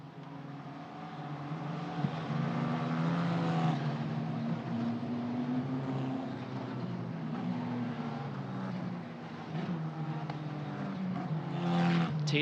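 Euro 4 Championship race cars pass through the chicane at Monza, a continuous engine drone swelling and fading as the cars go by at moderate distance, with faint commentary beneath.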